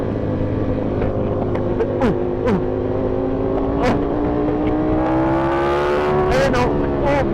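Ducati Panigale V4R motorcycle engine ridden at night on a road, loud and close throughout, with rising and falling revs and quick throttle blips as gears change, occasional other bikes nearby.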